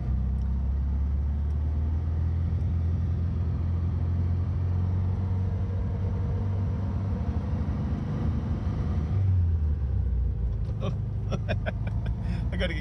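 Air-cooled 1500 engine of a right-hand-drive 1967 European VW Beetle rumbling steadily while driving, a low continuous drone with a shift in pitch partway through and light clicks near the end.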